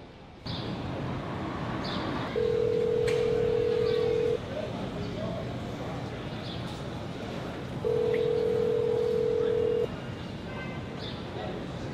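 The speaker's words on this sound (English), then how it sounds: "I have his number, so I'm gonna call him and see where he is." A telephone call is placed: two long, steady electronic ringback tones sound several seconds apart over faint background noise and brief clicks.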